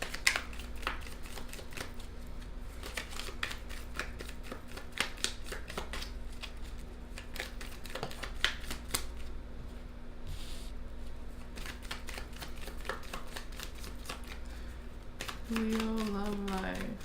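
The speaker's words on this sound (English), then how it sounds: "That was a bad shuffle." Tarot cards being shuffled again and again in a riffling, flapping rhythm, close up, with a steady low hum underneath and a brief higher tone near the end.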